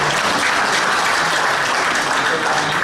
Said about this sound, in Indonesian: Bisa kita tepuk tangan dulu.